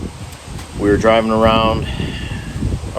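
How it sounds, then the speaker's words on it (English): Wind buffets the microphone with low rumbling gusts throughout, while someone speaks close up over the noise. "Sorry about the wind. I don't know if you can hear the wind or not."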